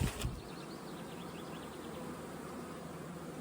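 Honey bees buzz steadily at an opened hive in a low, continuous drone, with a brief bump of handling noise at the start.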